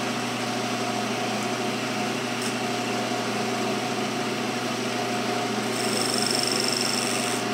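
A wood lathe spins a segmented potpourri box, giving a steady, close motor hum with a constant whine. The tone barely changes throughout, and a brighter high-pitched note joins near the end with no one speaking.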